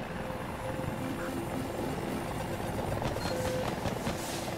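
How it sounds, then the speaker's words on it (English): Helicopter rotor and engine drone in Battlefield 2042, a quiet, even whir that holds steady for a few seconds with no talk over it. "I can drive a helicopter if I try"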